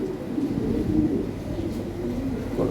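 Lahori Sirazi pigeons coo softly in their cage, low murmuring calls layered over a steady background rumble, with no clear talk.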